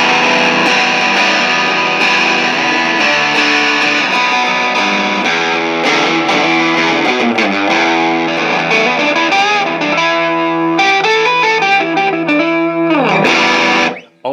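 An electric guitar plays continuous chords and sustained notes through a Rat 2 distortion pedal set at a low level of distortion, loud, dense and saturated, ending abruptly.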